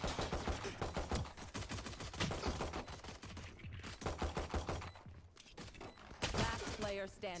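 Rapid gunfire in the tactical shooter Valorant during a pistol round of a college match, sharp shots fired in bursts and volleys throughout, with game effects and sounds mixed under busy action.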